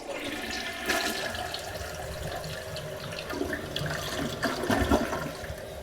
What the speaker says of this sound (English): Let's give it the good old flush test.